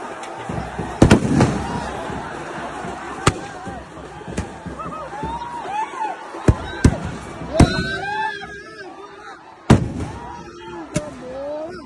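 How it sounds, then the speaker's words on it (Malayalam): Firecrackers burst among spectators at a football match, with several sharp, loud bangs spread through the stretch and whistling, rising streaks between them, all over a rumbling crowd with voices. "ഇവിടെ ഇരുന്നവർ മാറും മുമ്പ് പടക്കം പൊട്ടിത്തെറിച്ചു."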